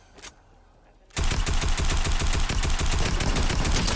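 Close-range automatic gunfire in a video game, a sudden loud sustained burst of rapid shots kicking in after a second of near quiet and running steadily to the end.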